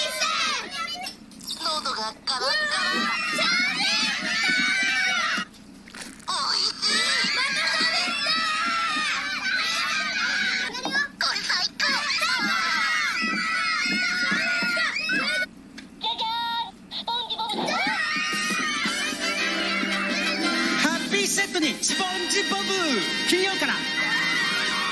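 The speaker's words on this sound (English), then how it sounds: "There's these screaming children" Children in a Japanese TV commercial scream and shout in excited, overlapping bursts throughout, loud and close, with a few brief pauses and crying-like wails mixed in.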